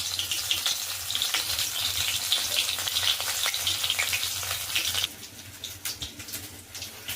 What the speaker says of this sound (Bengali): এবার আমি এটা তেলের মধ্যে